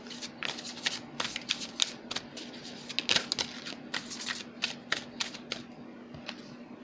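A deck of tarot cards is shuffled continuously up close, giving a rapid run of crisp papery riffles and snaps with a faint steady hum underneath. The shuffling goes on for several seconds and no one speaks.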